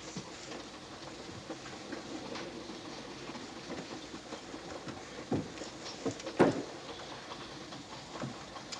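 A train runs on rails with a steady low rumble and faint clicking, heard from inside or nearby, with a couple of louder knocks partway through.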